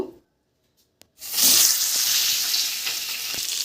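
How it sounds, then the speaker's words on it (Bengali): Fish heads dropped into hot oil burst into a loud, close sizzle after a second of near silence, the hissing crackle holding steady to the end. "তেল ভালো করে গরম হয়ে গেছে, মাছের মাথাগুলো ছেড়ে দেব"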